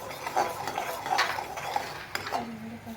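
A spoon scrapes and clinks around a pan of jaggery caramel with a pinch of salt, stirred continuously to make peanut patali; soft repeated scraping and light metallic taps, close by, with no voices.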